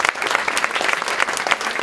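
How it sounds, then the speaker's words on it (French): An audience breaks into applause for a woman being introduced at a launch event, a close, lively burst of many clapping hands with no speech over it. "vous pouvez l'applaudir"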